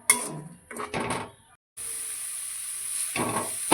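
Onion paste with turmeric and a bay leaf fries in a pan, giving a steady, close hiss of sizzling oil that runs on unbroken after a few short clattering stirs at the start.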